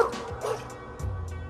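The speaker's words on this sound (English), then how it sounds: "And it started with the Rottweilers" Rottweiler dogs bark in a few sharp, close bursts, followed by a lower growling or whimpering tone, heard without talk.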